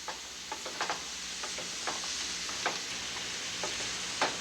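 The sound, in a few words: vegetables sautéing in a pot for Cajun creole dish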